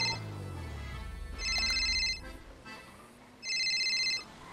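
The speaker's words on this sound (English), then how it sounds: "Jordan Snow ringing me now" An electronic phone ringtone from GTA 5 plays in two short bursts separated by a brief pause, clear and steady over a low background hum.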